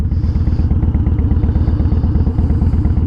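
A Harley-Davidson Dyna motorcycle rumbles loud and close while being ridden, its engine pulsing in a fast, even beat for a few seconds.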